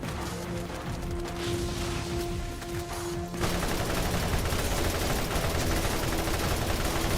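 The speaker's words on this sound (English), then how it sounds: "Ran out of shotgun ammo, so resorting to assault rifle." Sustained assault rifle fire in Borderlands, a continuous rapid rattle of shots that gets louder and denser partway through and keeps going to the end, with no talking.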